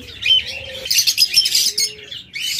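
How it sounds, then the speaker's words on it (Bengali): Several small birds chirp and tweet busily close by, with overlapping bright calls and a few sustained whistling notes. "একদম চমৎকার এই পাখিগুলো আপনারা নিতে পারেন"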